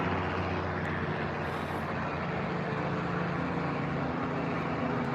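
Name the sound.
helicopter flying overhead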